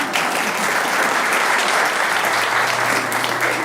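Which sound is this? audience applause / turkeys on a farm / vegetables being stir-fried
audience applause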